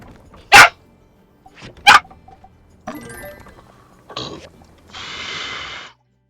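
A dog barks in the farming-life video game My Time at Sandrock: two loud, sharp barks close together, followed by quieter in-game rustles, a brief clatter and a soft hiss.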